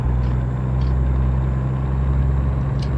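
Steady low drone of a Peterbilt truck engine on the road, a loud continuous heavy rumble from inside the cab with no talk.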